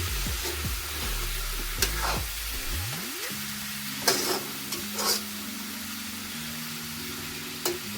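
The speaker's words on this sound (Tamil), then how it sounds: "நல்லா இந்த தாளிடம் கடலையோட சேர்கிற அளவுக்கு பிரட்டி விட வேணும்" Chickpeas are stirred in a hot pan of tempering for spicy sundal, with a spoon scraping and clinking against the pan over a steady sizzle of frying.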